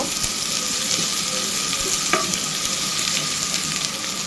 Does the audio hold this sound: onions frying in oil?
yes